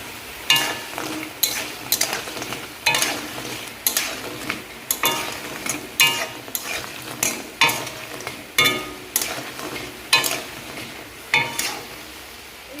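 Fritters frying in hot oil in a wok, with a steady sizzle under a run of regular scraping and stirring strokes, about one every second, close and clear.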